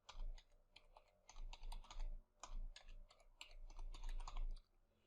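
Rapid keystrokes on a computer keyboard, close and quiet, with clustered taps and short pauses as a password is entered into a config file, no talk.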